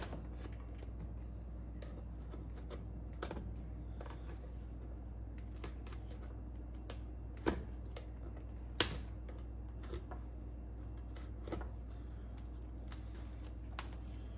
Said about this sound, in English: we're going to take off this old duct tape and see what we got hiding underneath here. We'll just cut through it.